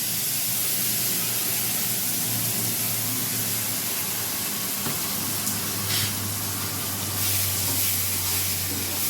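Spice paste hits a hot pan of taro and sizzles in a steady, even hiss that runs unbroken for the whole stretch, with a low hum underneath.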